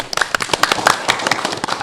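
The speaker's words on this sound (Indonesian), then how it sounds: "So once again, tepuk tangan dulu dong buat kalian nih." Applause from an audience at a campus event at Politeknik Kaltara, with a scattering of close, irregular hand claps running through the whole stretch at moderate loudness and voices mixed underneath.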